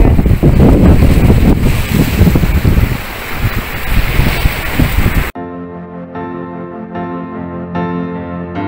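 Ocean waves wash in at Roque de las Bodegas beach on Tenerife as the tide comes in, a loud, steady surf roar mixed with wind buffeting the microphone for about five seconds, then cutting abruptly to music.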